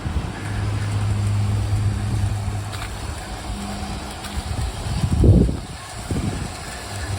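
A garden railway model train with two cars running on outdoor track, a continuous low rumbling drone that swells briefly near the end, close and fairly loud with no talking.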